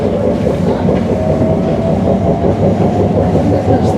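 A London passenger train bound for Abbey Wood via Canary Wharf rolls along steadily, a continuous close rumble with rhythmic clickety-clack of wheels over rail joints throughout, no voices.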